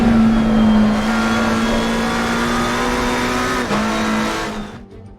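A McLaren 720S GT race car in Assetto Corsa Competizione at Brands Hatch, its engine droning loud and steady at high revs, pitch dipping briefly, then fading away at the end.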